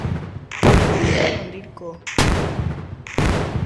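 Gunfire in a zombie shooting video game: three loud, sharp bursts of shots separated by short pauses, with someone speaking briefly between them.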